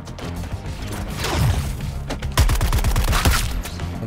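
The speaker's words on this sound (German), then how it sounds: "die Schüsse sind jetzt ultra laut" Loud bursts of rapid gunfire rattle in quick volleys in the game Suicide Squad, sharp repeated shots, dense and close.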